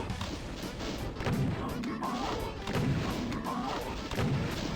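Rocket launcher fire and explosions in Doom II deathmatch, several booming blasts in quick succession with rumbling impacts, fairly quiet overall.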